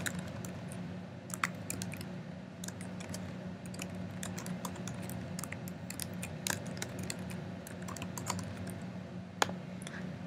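Quiet, rapid clicking of a computer keyboard as details are typed into an online registration form, keystrokes arriving in uneven bursts over a low steady hum.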